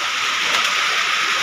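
Rain falls on a house in a steady, hissing patter, even and continuous throughout the brief stretch, with no talk over it.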